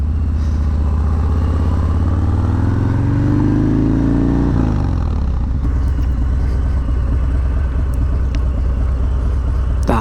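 A Harley-Davidson Softail Fat Bob motorcycle is ridden, its V-twin engine rumbling loud and close. It revs upward through a gear, then drops back to a lower, throbbing cruise.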